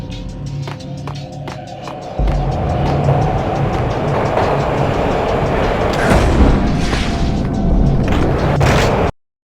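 Loud, continuous rumbling and rattling of a moving train in the video game Max Payne, with clanking and a heavy boom partway through, ending abruptly in silence.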